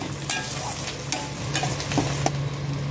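Fish paste stir-fries in a pan, giving a continuous close sizzle broken by brisk scraping stirs of a spatula, with no talking.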